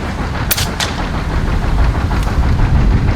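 FX Impact M3 air rifle with an 800mm barrel firing outdoors, two sharp cracks close together near the start and a fainter one later, all over steady wind noise.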